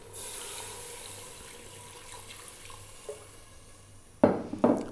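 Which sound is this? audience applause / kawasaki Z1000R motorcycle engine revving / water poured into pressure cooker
water poured into pressure cooker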